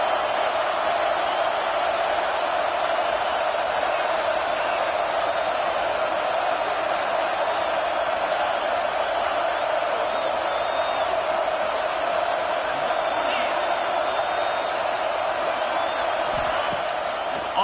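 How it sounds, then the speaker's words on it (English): Stadium crowd in the College Football 26 video game roars as a steady, dense wall of noise for the whole stretch, with no clear peaks or pauses. "Listen to this crowd just shaking the girders of this place"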